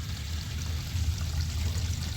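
Gray dishwater drains from an RV into a 21-gallon portable waste tank, a steady low gurgling pour close by, continuous and without talk.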